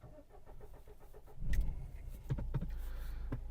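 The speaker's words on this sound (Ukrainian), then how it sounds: "Запустився двигун, працює рівненько." A 2013 Renault Megane III with a 1.5 diesel engine starts after a few clicks and settles into a low, steady idle, heard close with no talking.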